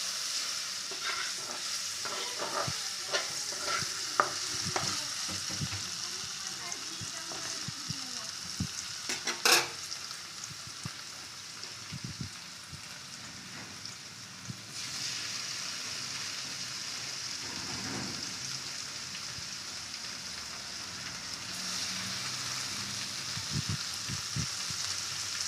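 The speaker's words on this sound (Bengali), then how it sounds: "এই যে পনিরগুলো ভেজে নেব।" Paneer pieces frying in a pan of oil with turmeric, a continuous crackling sizzle with occasional stirring scrapes and pops, close and steady throughout, with no voices.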